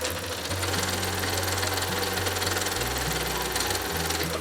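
A sewing machine stitches fabric, its motor chattering in a fast, even run that shifts speed a few times, close and steady with no talk.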